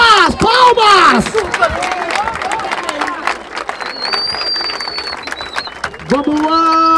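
At a rap battle in Barueri, São Paulo, the crowd claps and cheers in loud, dense bursts while the host shouts over the noise.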